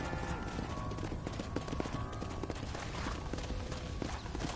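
In the Red Dead Redemption video game, horse hooves clip-clop in a steady, rapid rhythm, close and continuous, with faint background game ambience.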